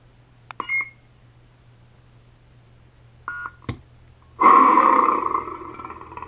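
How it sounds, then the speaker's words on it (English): A lightsaber sound board in a 2005 Anakin Revenge of the Sith replica hilt gives two short electronic beeps a few seconds apart while the button is held, then a louder humming burst swells in as the new sound font loads. "To move to the next font, you press and hold this through 2 beeps."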